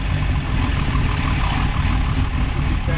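A modified car engine idling with a lopey cam, a dense, loud, continuous low rumble with uneven chop, heard up close with no voices.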